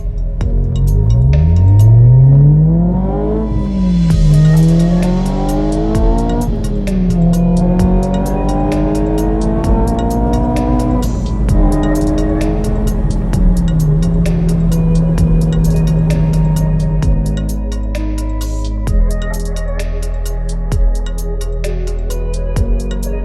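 A K-swapped Bertone X1/9, a small light sports car making about 240 horsepower, revving hard through rising gear pulls with a rasping, high-pitched engine note close by, then easing off into a lower idle-like burble.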